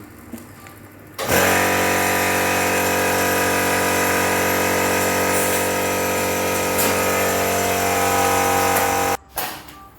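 A pump machine used for packing jasmine rice kicks on abruptly, droning loud and steady with a strong mechanical hum for about eight seconds, then cuts off sharply, followed by a brief short burst of noise.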